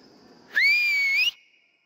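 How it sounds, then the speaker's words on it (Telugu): One loud, sustained whistle rings out inside the Borra Caves for under a second. It rises slightly in pitch, then cuts off, leaving a faint echo. "మన విజిల్ ఎక్కడైనా పెద్దగా వస్తుందంటే అది ఇక్కడే"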